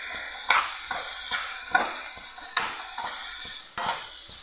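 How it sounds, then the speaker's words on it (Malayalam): Carrots sautéed with salt over a high flame for a chicken dish, giving a steady pan sizzle broken by regular scraping stirs about once a second, each leaving a sharp spatula click, with no voices. "ഇനി ഇതിലേക്ക് നമ്മൾ കാരറ്റ് ഇതിലേക്ക് ഒരു അല്പം ഉപ്പും കൂടെ ചേർത്ത് ഫ്ലെയിം ഒന്ന് കൂട്ടി വെച്ച് നല്ല പോലെ ഒന്ന് വഴറ്റിയെടുക്കാം"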